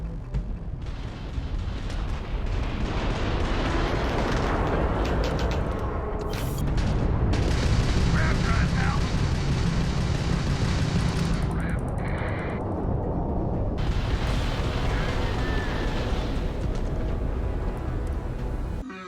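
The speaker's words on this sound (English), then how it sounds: "If you can keep the enemy ship centered on the HUD, we can lock in to fire a homing missile." Starfield space combat: a dense, continuous roar of weapon fire and explosion-like booms, loud and sustained throughout with bursts of crackling impacts layered over a heavy low rumble, no speech.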